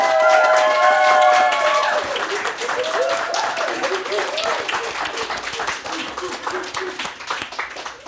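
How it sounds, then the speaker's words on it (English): Applause and scattered clapping from an audience at a women's enterprise pitch showcase, rising after a voice and then continuing steadily at moderate volume with crowd murmur. "give each other a big round of applause"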